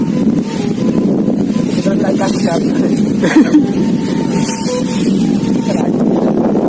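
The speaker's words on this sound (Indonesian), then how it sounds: "Iya kencang sekali angin Ji." Strong wind buffets the microphone outdoors while a Bugis pitu-pitu kite is being flown, making a loud, continuous roar with gusty swells, and voices are faintly heard underneath.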